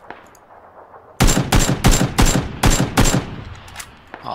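Loud gunfire in the battle royale game PUBG: six sharp, evenly spaced shots fired close by in quick succession after a quiet opening, with no talking.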